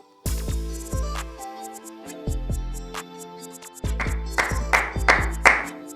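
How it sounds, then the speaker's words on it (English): A few sharp hand claps land near the end, mixed in with ringing musical chime notes that play throughout. "I was just clapping for you."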